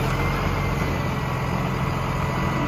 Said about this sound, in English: The truck's been running for a while here.